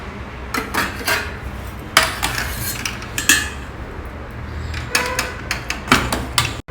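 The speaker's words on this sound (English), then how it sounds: "The cooker also is ready. The pressure has released. Let's open it." Metal clinks and lid knocks from a home pressure cooker being opened after its pressure has released in a South Indian kitchen, several sharp clatters spread over a few seconds against a low background hum, no talking.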